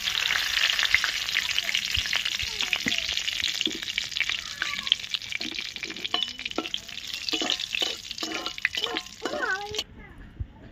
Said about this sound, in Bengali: গরম হয়ে গেছে, শুকনো লঙ্কা আর তেজপাতা ফোড়নের জন্য দিয়ে দিচ্ছি